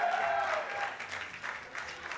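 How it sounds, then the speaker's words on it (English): Crowd cheering and applauding at a byelection campaign headquarters in Nanaimo, a steady, moderately distant wash of clapping and voices that swells slightly as results come in. "The crowd just starts cheering when they see the latest results being updated."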